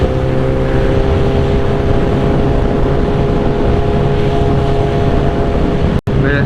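A 2008 Suzuki GSX-R 1000 sportbike engine fitted with velocity stacks runs loud and steady with a constant droning tone, cutting out abruptly for an instant near the end.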